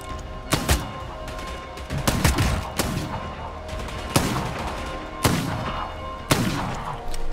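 Gunfire in the video game Bloodhunt: single sharp shots spaced about a second apart, seven or so loud cracks, each with a short booming tail over a steady game background.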